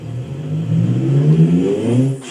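D-Max car revving in a sim racing video game, a single rising and falling engine rev that is loud and close, its pitch climbing in steps before cutting off abruptly.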